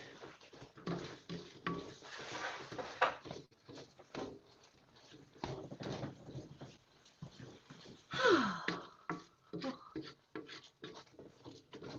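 Kyphi temple incense mixture is stirred in a pot, giving quiet, irregular scraping and rubbing strokes that come close, with a louder scrape partway through.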